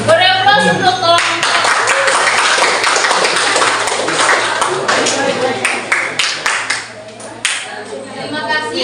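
A classroom audience breaks into steady applause after a student presentation on mitosis, a dense burst of many hands clapping for about six seconds before thinning into a few scattered claps, with brief talk at the start and end.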